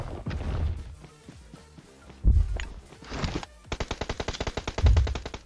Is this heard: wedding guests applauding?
no